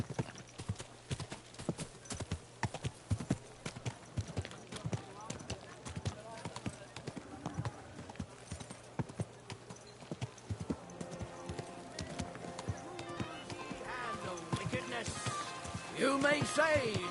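Horse hooves clip-clopping in a steady, close walking rhythm, with a whinny and a voice speaking toward the end over rising background sound.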